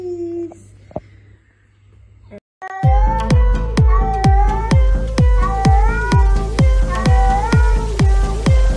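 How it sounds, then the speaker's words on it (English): Several pet cats meow in a quick, loud, repeated series close by, each call rising and falling in a steady rhythm after a brief quieter start with a faint voice. "look at all these kitties"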